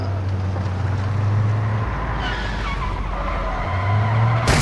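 A hatchback car in the video game Warzone DMZ skids along, its tires squealing in long sustained tones over a steady engine and road rumble, close and fairly loud throughout.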